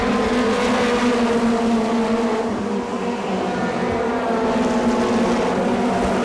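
USAC midget race cars roar around an oval track in Odessa, Missouri, a loud, dense engine drone from several cars that dips briefly in pitch as one driver backs off the gas, then builds again.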